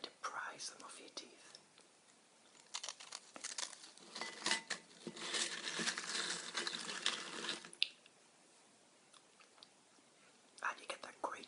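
A bag of UK prawn cocktail crisps crinkles close up in bursts of crisp rustling and crunching, loudest midway, with soft whispering in between.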